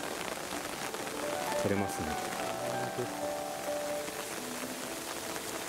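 Steady rain falls at a rose garden in Gifu on a wet day, a dense even hiss of drops on surfaces filling the whole stretch while a person speaks briefly over it.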